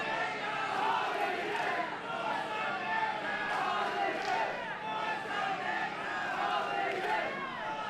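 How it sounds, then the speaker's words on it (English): A capacity crowd roars and cheers at a professional wrestling match held at a brewery, a dense, continuous wall of voices with rising shouts and surges throughout, with no talk over it. "you can hear this capacity crowd here at Southern Star Brewery"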